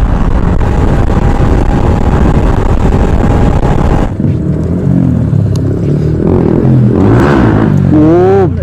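Motorbike engine revving hard during a wheelie, a loud close roar that drops off sharply midway, then blips and climbs again into a rising whine near the end.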